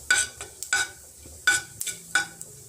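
Whole cumin seeds dropped into hot mustard oil for an Assamese curry give short crackling sizzle bursts, about five of them spaced across the clip, close by and with no talk.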